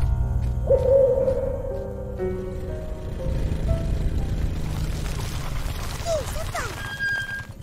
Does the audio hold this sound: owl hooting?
yes